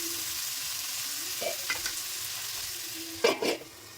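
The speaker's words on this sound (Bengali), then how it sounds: "সবজিগুলো যেহেতু খুব মোটা মোটা করে কেটেছি তাই একটুখানি গ্যাসের কম দিয়ে একটু ঢাকা দিয়ে দিয়ে ভেজে নেবো" Thick-cut vegetables including aubergine fry over low gas in a covered pan, giving a steady soft sizzle with a few brief louder bursts of stirring or lid movement near the end.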